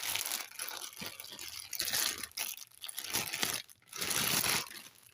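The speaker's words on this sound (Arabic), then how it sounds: "أنا هنا عندي كيس طبعا راح أضيف الدجاجة بيه" Plastic bag crinkles and rustles close by as marinated chicken is placed inside for oven-grilled chicken, in bursts of crisp crunching with short pauses between handling.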